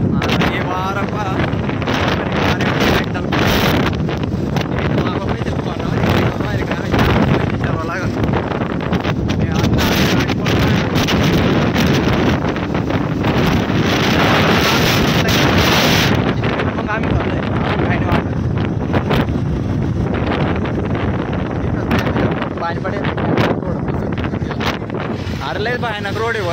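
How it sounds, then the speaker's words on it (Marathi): Strong wind buffets the microphone during a mountain road motorbike ride in monsoon rain, roaring steadily and loudly throughout, with a voice talking over it. "हे वारा पहा"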